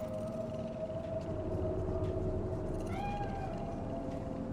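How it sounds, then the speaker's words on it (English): In Cyberpunk 2077, a cat meows once or twice, a short rising call near the end, over a steady hum of game ambience. "Do you see it? The cat?"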